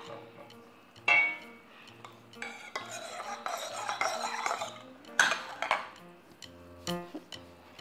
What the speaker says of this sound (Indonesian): Terus kita aduk.